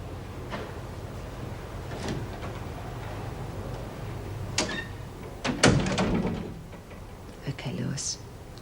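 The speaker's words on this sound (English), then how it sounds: "Close the door." A door is shut in a prison cell block drama scene, giving a sharp, fairly close thud among scattered knocks and shuffles, with voices talking around it.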